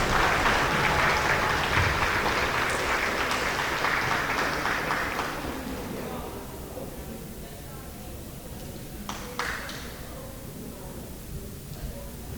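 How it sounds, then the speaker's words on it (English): Applause for 7th grade award winners at a junior high awards program, a crowd clapping steadily for about five seconds, then fading away into a quieter room with a few scattered sounds. "So go ahead and give them a round of applause."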